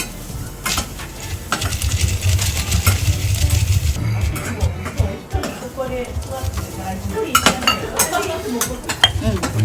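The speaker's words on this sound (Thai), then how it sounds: "เดี๋ยวจะให้พี่สมช่วยตำถั่ว นี่ อันนี้เป็นถั่วลิสงที่คั่วแล้วนะคะ" Roasted peanuts pounded in a mortar in a home kitchen: repeated knocking thuds and gritty clinks in an uneven rhythm, with people talking over the pounding.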